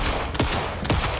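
Two heavy shotgun blasts from the video game Alan Wake 2, roughly half a second apart, each a sharp loud crack with a booming low tail, with no talk over them.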